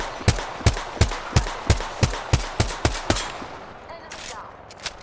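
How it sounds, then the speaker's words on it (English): Rapid automatic gunfire in Apex Legends, about a dozen sharp evenly spaced shots over four seconds, loud and close, fading into quieter game ambience at the end. "They're shooting at me."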